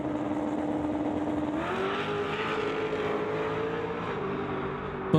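Drag racing door cars blast down the strip together at a racing event, a continuous roaring engine note that rises in pitch as they accelerate, steady and fairly distant.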